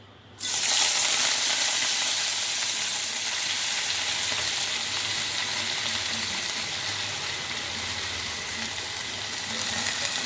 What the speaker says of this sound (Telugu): నూనె వేడెక్కిందండి. ఇప్పుడు తోటకూర అనేది మనం వేసుకుందాం.